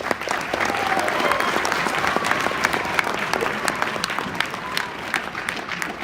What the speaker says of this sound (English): A big round of applause for everybody that's here.